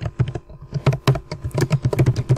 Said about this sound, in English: So what I'm typing here is the good way.